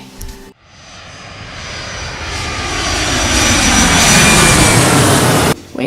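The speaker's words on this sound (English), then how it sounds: "Waiting for that plane to pass over right now." A fixed-wing airplane passes overhead, its broad engine roar swelling steadily over several seconds to a loud peak before cutting off abruptly, with no talk over it.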